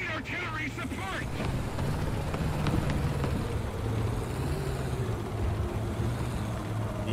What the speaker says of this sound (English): The engine just sounds like it's laboring so terribly badly.